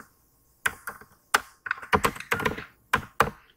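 Computer keyboard keys clack in short irregular bursts while code is typed, close and fairly quiet with brief pauses between clusters of strokes.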